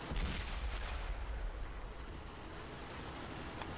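A World of Tanks T20 medium tank fires its low-penetration, high-damage derp gun in a video game, giving one heavy booming blast at the start that decays into a long rumbling tail, with no talking over it.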